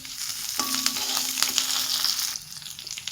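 Onion and curry leaves fry with fenugreek, cumin and dried chili for rasam, giving a steady, close hissing sizzle with a few brief clinks and stirring crackles.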